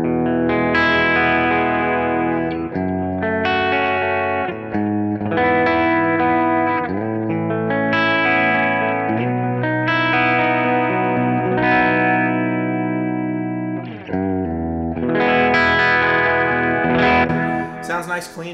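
Suhr Alt T Pro electric guitar played through its Thornbucker bridge pickup with effects, a clean tone just starting to break up, strummed chords and melodic phrases ringing continuously and fairly loud, close up, with no talking.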